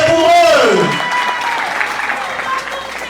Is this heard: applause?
yes